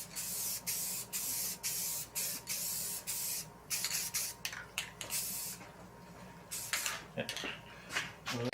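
A spray gun lays a light mist coat of paint on a 1973 Challenger interior part, hissing in short rhythmic bursts with brief pauses between passes, close and steady.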